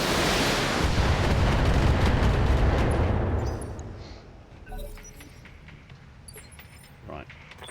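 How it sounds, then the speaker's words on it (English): A heavy, booming explosion erupts as a critical hit detonates a mech in a video game. It rumbles loudly for several seconds, then fades into quieter, scattered game sounds. "if you can luck out and get a Let's do critical hit which detonates"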